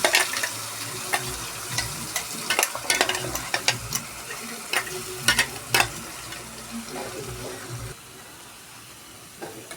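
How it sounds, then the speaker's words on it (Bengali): A paste of ginger, garlic, tomato and onion sizzles and sputters steadily in a pan, with a spatula stirring and scraping through it in irregular strokes, close and loud, no voices. "মশলাটাকে ভালো করে ভেজে নেবো আমি"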